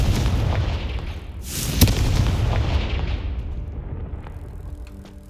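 A single booming Confringo spell explosion in the game Hogwarts Legacy goes off sharply, then rumbles and fades under a steady low background of game ambience.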